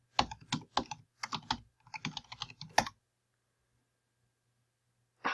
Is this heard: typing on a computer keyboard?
yes